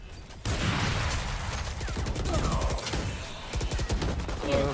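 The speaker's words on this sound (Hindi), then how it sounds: "दो राउंड गन चलाया भाई" Gunfire in the Valorant video game comes in rapid, crackling bursts of shots. The bursts are fairly close and steady over a few seconds, with a mechanical clatter and no talk.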